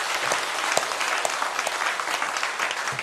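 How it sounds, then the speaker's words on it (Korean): A church congregation applauds steadily at a Parents' Day Sunday service, a dense, even wash of many hands clapping together with no talking over it. "박수를 한번 격려합니다."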